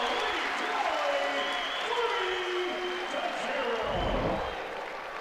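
A college wrestling crowd at a Purdue at Nebraska Big Ten dual applauds and rises to its feet after a mat return, with a broad wash of clapping and cheering under an announcer's continuous commentary.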